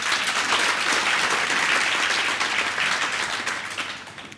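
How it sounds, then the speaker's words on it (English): Loud, dense applause from a big political party audience, continuous throughout and fading slightly at the end. "A round of applause again"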